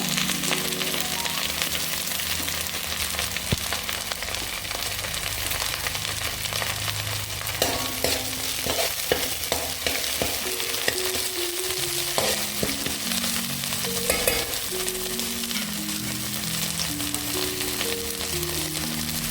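Curry leaves frying in a pan for lemon chicken fry: a dense, loud steady sizzle throughout, with light stirring clicks and a faint tonal hum in the background, no talk.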